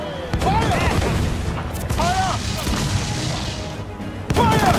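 Naval cannon broadside in the Assassin's Creed Freedom Cry video game: heavy booming cannon shots rumble over continuous battle noise, with shouted voices and crew calls mixed in.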